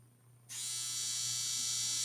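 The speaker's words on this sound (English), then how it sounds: "It's my dryer." A running clothes dryer starts up with an abrupt, loud, steady buzz that holds evenly, with no one talking.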